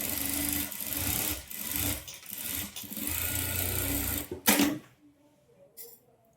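Sewing machine stitching a decorative edge along a blouse waistband, a fast continuous mechanical whir broken by short pauses, close and loud, ending in a sharp clack and quiet machine tail.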